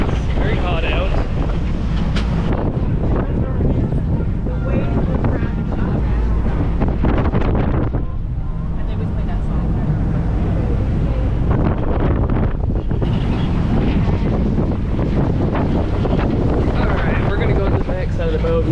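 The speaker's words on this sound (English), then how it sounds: "A little windy." Strong wind buffets the microphone in heavy, continuous gusts, with faint water and engine rumble underneath on the open deck of the Yankee Freedom ferry to Dry Tortugas.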